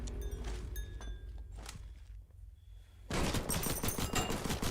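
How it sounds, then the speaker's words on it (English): Rapid gunfire from the horde-survivor FPS game Guns 'n Goblins, a dense burst of shots with thuds and footsteps early on, then a loud sustained volley filling the final second and a half. "You just shoot through the gates."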